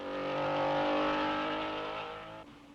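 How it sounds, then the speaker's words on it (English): Porsche racing car at the 1961 Belgian Grand Prix roaring past at close range, a loud sustained engine note with strong harmonics that swells and then fades as it pulls away. "This is Dan Gurney, who finished 6th, chased home by Joe Bonnier in the other Porsche."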